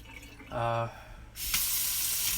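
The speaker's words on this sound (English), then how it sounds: "Pull it forward for cold water, comes on, push it back, that's hot water, comes on as well." An Aoleca pull-out kitchen faucet turns on and water runs steadily into a sink, close and moderately loud, after a short burst of speech.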